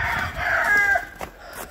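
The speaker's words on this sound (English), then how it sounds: "Oh, my chickens are spazzing out there." Farm chickens cluck and a rooster crows in a loud, agitated burst, several birds calling over one another close by, with no talking.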